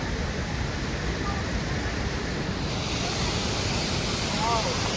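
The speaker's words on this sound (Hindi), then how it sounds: "क्या जबरदस्त पानी का झरना है।" A powerful mountain waterfall on the Amarnath Yatra trek from Pahalgam, in high terrain about four kilometres before Sheshnag. Steady, loud broadband rushing water fills the whole clip with wind noise, and no talk is heard.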